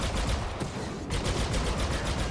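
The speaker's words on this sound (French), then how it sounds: "je vois des grenades qui pètent de tous les côtés alors qu'il n'y a rien" Grenades explode in rapid succession during a Star Wars Battlefront 2 multiplayer match, a loud unbroken barrage of sharp bursts with a brief dip midway.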